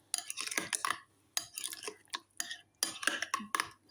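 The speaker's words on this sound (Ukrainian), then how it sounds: "Ну, перемішаю гарненько." Spoon scraping and clacking through a thick ricotta and flour mixture in a bowl for a cheese casserole, in short, close bursts of stirring separated by brief pauses.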